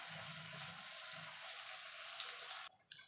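Water from a rinsed mixer jar poured into a pan for a Bengali spicy egg curry: a steady rushing splash lasting a few seconds, then cutting off into a quieter hiss.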